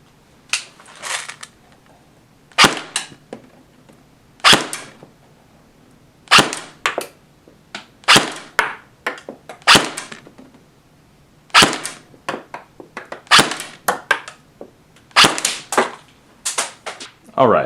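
A G&G Combat Machines M4 airsoft electric gun fires .25 gram BBs in about a dozen sharp, loud single shots, evenly spaced, some in quick pairs, each crisp snap followed by silence.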